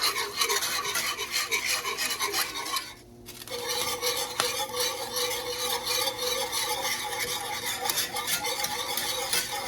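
A whisk scrapes and swishes continuously through gravy in a pan, a close rasping stir that pauses briefly once before carrying on steadily.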